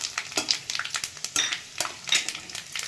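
Bay leaves, dried red chillies and a good amount of five-spice seeds crackle in hot oil in a wok. Rapid, close, uneven pops and spits come with some stirring noise, and nobody speaks.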